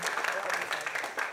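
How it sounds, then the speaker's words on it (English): Audience clapping after a singing performance at a mentorship talent show, a steady patter of many hands close and fairly loud for a short burst, with no voices rising above it. "Okay, clap for yourself"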